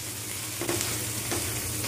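Bombay duck fish fries in a pan, crisping in oil with a continuous, close sizzle broken by two brief stirring scrapes.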